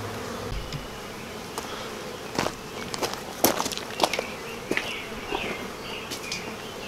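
Honey bees swarm and buzz around an opened yellow hive during an inspection. A dense, agitated drone fills the air, broken by sharp nearby crackles and shuffling movements.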